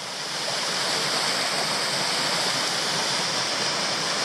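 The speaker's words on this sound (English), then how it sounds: "Another little waterfall on the rivulet," Another small waterfall on a rivulet in Tasmania, pouring with a constant, dense white rush close by, loud and unbroken with no one speaking.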